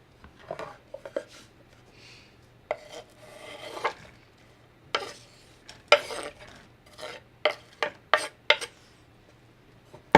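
A knife peeling and chopping an onion half on a cutting board in a home kitchen, with scattered soft scraping rubs and a run of sharp, quick cutting knocks, close and fairly quiet.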